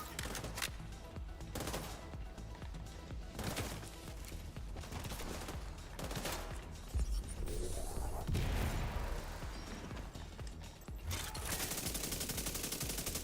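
Rapid automatic gunfire aimed at an enemy turret in The Division 2, dense loud bursts with short gaps between them and a few heavier impacts partway through.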